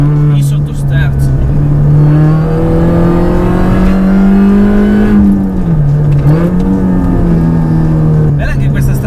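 A tuned Mini Cooper S R53 engine pulls hard at full throttle through a corner on a freshly resurfaced road, its steady loud drone rising slightly in pitch, dipping briefly, then holding, with a voice talking over it.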